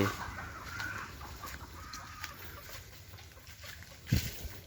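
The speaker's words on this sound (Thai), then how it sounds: "ฝูงไก่ฝูงไก่ฝูงไก่" A flock of chickens clucks around a fish-trapping spot near a forest wild boar trail, soft scattered clucks over steady outdoor insect hiss, with one louder squawk near the end.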